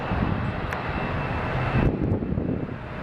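An American Airlines passenger jet flying from Dallas to Seattle roars past steadily, a broad engine rumble with a little wind buffeting on the microphone and a brief dip near the end, no voices.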